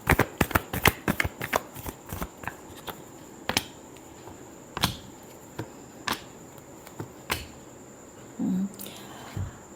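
A deck of tarot cards is shuffled close up in quick riffling bursts, first rapid, then thinning out into scattered single snaps and taps.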